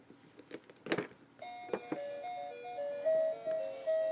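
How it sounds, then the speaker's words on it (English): Tinny electronic game music chimes from a small toy speaker, a simple beeping melody after a few clattering handling knocks. "it plays music from the game"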